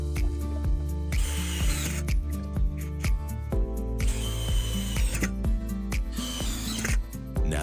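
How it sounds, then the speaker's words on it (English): A power drill drives decking screws into ceiling joists, whining and revving in repeated bursts with the pitch rising and falling as the motor strains, close and loud throughout. "Pinned in with decking screws right into the joists."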